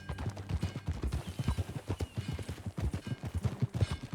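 Horse hooves clip-clop steadily across the ground in Red Dead Redemption 2, a brisk, close rhythmic gait with a brief whinny mixed in.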